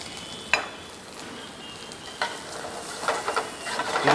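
Half-boiled carrots and beans are stirred in a pan, giving a soft, faint sizzle broken by a few sharp scrapes and clinks of the spoon, growing busier toward the end, with no talking.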